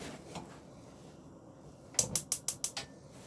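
Gas hob burner igniter in a 2009 Bailey Pageant Series 7 Provence caravan, heard as a quick run of about six sharp, close ticking clicks after a quiet pause.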